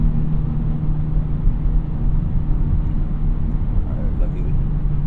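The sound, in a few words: Acura Integra Type S car driving on road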